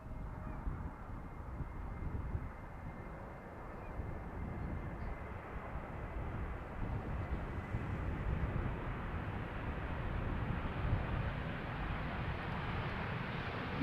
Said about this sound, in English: A320neo, quiet as can be. Vacating at the first exit.